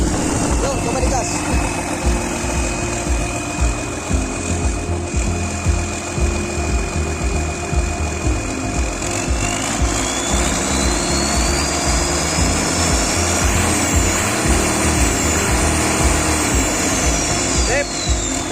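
A Hitachi 20-ton excavator's overhauled Isuzu 6BG1 diesel engine runs loud and steady up close, revved with a rising whine through the middle and end, while people talk over it.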